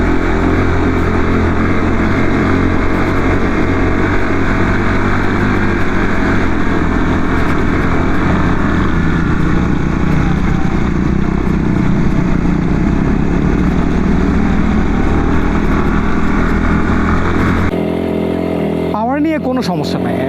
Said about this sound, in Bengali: কেপিআরের যে পাওয়ার, ফার্স্ট গিয়ারে একদম পুরো সেরকম পাওয়ার নিয়ে উঠে যাচ্ছে।